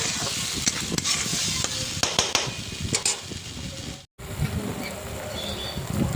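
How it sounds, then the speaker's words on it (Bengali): Spice masala with Kashmiri chilli powder and salt being stir-fried in a pan for Bengali fish curry, a steady close sizzle broken by scraping spatula strokes, with a brief dropout midway. "এবার ভালো করে কষে নেব মশলাটা।"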